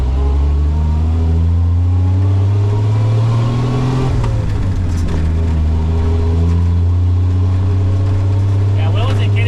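An old Toyota Land Cruiser drives through city streets, its engine droning loud and steady, briefly shifting pitch midway as it changes gear, with a voice talking over it.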